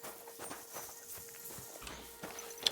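Horse hooves clip-clopping in the video game Kingdom Come Deliverance 2, a quiet, even walking rhythm of soft knocks with faint ambient background.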